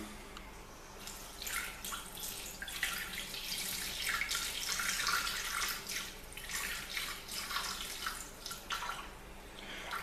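Water pours steadily into a Thermomix TM6 bowl for bread dough, a soft continuous splashing trickle, close and fairly quiet, with no talking.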